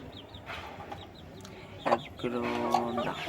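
A pet chicken clucks in a short run of throaty calls, growing louder and more sustained toward the end, over a faint background of other chirps.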